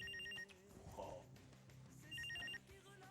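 A telephone bell rings twice in a domestic scene from a Pakistani sitcom, brief trilling bursts heard faintly over background music and room sound.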